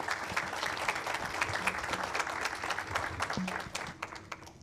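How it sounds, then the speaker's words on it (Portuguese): Conference attendees at an energy transition panel give the presenters a round of applause, a full steady clapping that thins and tapers off near the end. "eu solicito a salva de palmas aos apresentadores"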